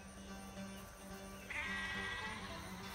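A sheep lets out a single drawn-out bleat midway through, fairly close, over quiet background noise.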